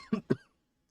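A man gives two quick, dry coughs close to the microphone, followed by silence.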